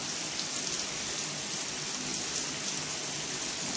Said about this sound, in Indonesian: Sudah agak reda nih hujannya nih, sudah agak reda guys.